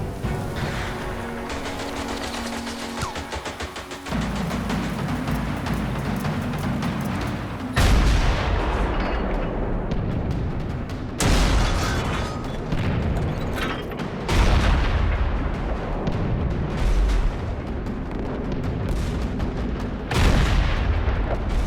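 Artillery fire on the World War I Western Front, heavy booms and blasts repeating every few seconds over a dense, continuous rumble of gunfire, loud and close.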